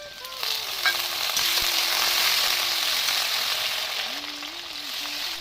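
Fish curry ingredients, fish with tomato, potato and dried sour fruit, fry in hot oil in a wok with a steady, loud sizzle. A few clinks of a utensil sound near the start, and no one speaks.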